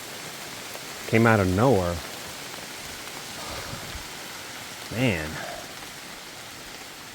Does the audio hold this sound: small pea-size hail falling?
yes